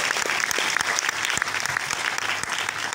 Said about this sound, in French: On applaudit, ouais.